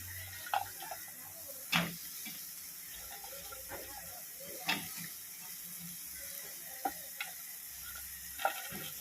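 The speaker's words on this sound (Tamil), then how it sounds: "இப்போ வந்து காயை போட்டுக்கலாம். நம்ம வெண்டைக்காயும் கத்திரிக்காயும் வச்சுருக்கேன், போட்டுக்கேன்." Okra and eggplant sautéing in a pan for a Tamil kara kuzhambu, a low steady sizzle broken by occasional sharp spoon knocks and stirring scrapes, fairly quiet overall.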